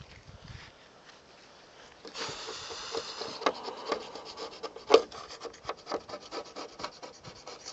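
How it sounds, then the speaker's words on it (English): Sandpaper rubs wet across a car's peeling clear coat in short repeated back-and-forth strokes, close and fairly quiet, growing busier after a soft start. "Then I'm going to wet sand it."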